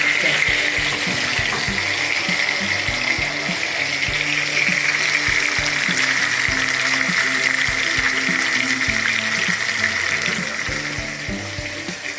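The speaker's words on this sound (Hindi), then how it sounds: "अब ये ऑयल गर्म हो गया। अब मैं इसके अंदर ये मछली डालूंगी, एक एक पीस करके डालूंगी।" Fish pieces fry in hot oil with a steady, close sizzle and crackle that holds evenly for the whole stretch, easing slightly at the end.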